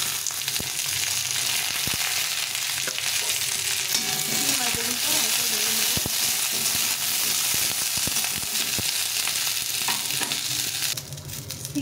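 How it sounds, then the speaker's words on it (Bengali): Flat beans and eggplant fry in oil in a pan, a dense continuous sizzle with occasional stirring scrapes and knocks, close and steady, with no one talking. "সিম আর বেগুনটা একটু ভাজা ভাজা হয়ে গেছে।"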